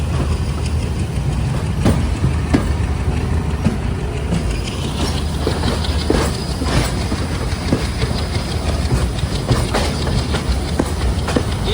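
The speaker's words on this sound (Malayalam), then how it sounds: "ഇപ്പം ഈ ഒരു ഡയറക്ഷനിലേക്കാണ് ട്രെയിൻ പോകുന്നത്" The Colombo to Trincomalee Night Mail train in Sri Lanka rumbles steadily along the rails, with repeated clickety-clack beats from the wheels over a continuous loud roar.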